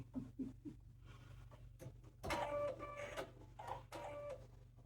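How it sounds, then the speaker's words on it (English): A sewing machine stitches half square triangles for a sawtooth star quilt block, with a steady mechanical whir and a few short bursts of faster stitching after some light ticking. "let's sew these half square triangles together"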